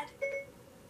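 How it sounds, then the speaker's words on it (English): Short, faint Siri activation beep from an iPhone sitting across the room, one brief rising electronic tone over quiet room noise. "And Siri just turned on."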